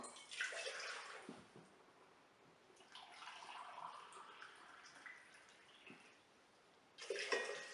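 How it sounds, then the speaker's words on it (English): Warm water poured from a cup into a baking pan in a home kitchen, a steady splashing pour that swells and fades over several seconds and surges again at the end, close and fairly quiet. "Let's pour 2 cups of water into our baking pan."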